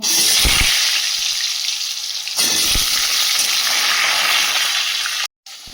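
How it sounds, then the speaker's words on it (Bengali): Potatoes frying in oil in a wok, a loud steady rushing sizzle with a couple of thumps, close up, broken by a brief silence near the end. "কড়াই দিয়ে দিয়েছি তেল আলুগুলো ভেজে নেব"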